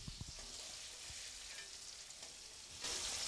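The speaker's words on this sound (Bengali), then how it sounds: "ইতিমধ্যে এই যে এই 3 ধরনের ভেজিস যা রয়েছে তা মোটামুটি ভাজা হয়ে গেছে" Three kinds of vegetables for chilli mushroom sizzle in a little oil with a steady, bright hiss. A few soft stirring knocks come early, and the sizzle grows louder near the end.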